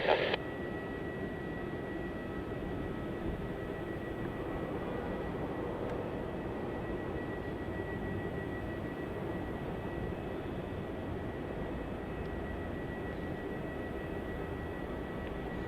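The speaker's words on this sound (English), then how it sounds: "TG465 coming in from Bangkok. It's an Airbus A350-900." Thai Airways Airbus A350-900 arriving at Melbourne Airport in heavy wet weather, a steady broad jet roar holding at even loudness throughout, with no pauses or talk.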